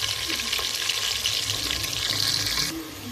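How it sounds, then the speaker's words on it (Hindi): Potatoes fry in a pan for an aloo baingan dish, a loud steady hissing sizzle with a few faint stirring scrapes, close up and continuous until it softens near the end. "तो आलू हमारे फ्राई हो रहे हैं, मैंने ऐड कर दिए हैं।"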